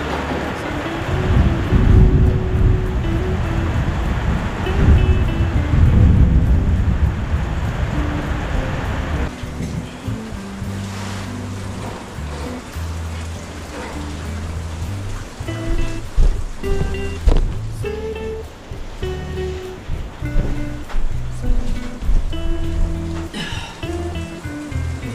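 Heavy rain pounding on a loosely set-up tent: a loud, dense roar that eases into a steadier patter with scattered close drips and taps, no voices.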